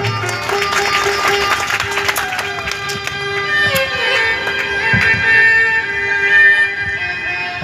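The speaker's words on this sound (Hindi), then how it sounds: "और एक बार ताली बजा दें।" A crowd at a Christian Santhali wedding ceremony breaks into loud, sustained clapping that swells and continues throughout, with sharp individual claps on top.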